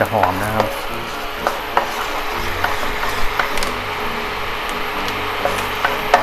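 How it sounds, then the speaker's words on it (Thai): Chicken breast and garlic being stir-fried in a pan for a clean diet dish: steady sizzling with repeated sharp scrapes and clinks of the spatula against the pan, close and loud. "เราก็ผัดไปเรื่อยนะครับ จนกว่ากระเทียม"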